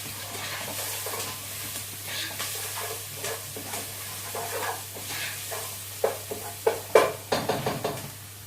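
Ingredients for a homemade lasagne sauce stirred in a pan over a low sizzle, with a run of sharp utensil scrapes and knocks against the pan toward the end, no voices.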